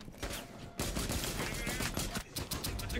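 Pistol fire in Rainbow Six Siege: a quick run of sharp, loud shots close by in rapid succession, with a brief gap before more rounds.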